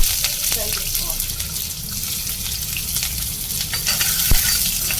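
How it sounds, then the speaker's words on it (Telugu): Large-cut chopped onion fries in hot oil in a kadai, giving a dense, close and steady sizzle with brief crackles throughout. "ఆయిల్ హీట్ అయిపోయినాక పెద్ద సైజ్ ఆనియన్ కట్ చేసి ఫ్రై చేసుకోవాలి."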